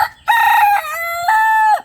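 A rooster crows loudly and close in two long drawn-out calls, with a brief dip between them, from a small backyard flock of chickens kept beside a house in the Konkan region; no clucking stands out.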